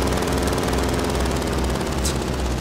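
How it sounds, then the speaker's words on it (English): Helicopter in the Final Fantasy 7 video game, a steady loud rotor and engine drone with low pulsing thump that holds throughout, with no talking. "How the fuck did they get a fucking helicopter in this place?"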